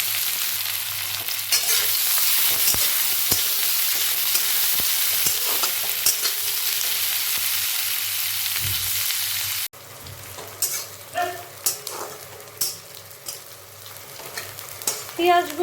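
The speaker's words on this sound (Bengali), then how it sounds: "পেঁয়াজগুলোকে অল্প এখন আমি ভেজে নেব" Chopped onions fry in oil in a pan with a loud, steady hissing sizzle that drops off partway through, giving way to quieter scraping and stirring sounds with occasional crackles. No voices.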